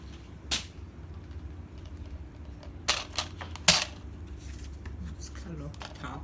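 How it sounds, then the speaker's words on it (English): Scissors trim a strip of paper off the end of a handmade junk journal bellyband, giving a few short, crisp snips spread across a quiet room. "So I'm just going to cut a little bit off the end."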